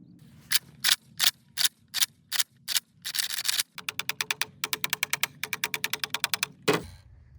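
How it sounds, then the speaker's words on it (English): Crisp clicks from the turret of a red dot sight being adjusted to change its zero, arriving as a handful of slow separate clicks and then rapid runs of evenly spaced clicks, close and fairly loud with no talking. "So we're gonna do 5 clicks, I'm gonna say."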